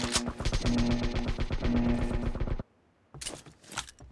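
Thompson submachine gun in PUBG Mobile firing a long, steady automatic burst of rapid close shots. A brief silence follows, then a short second burst.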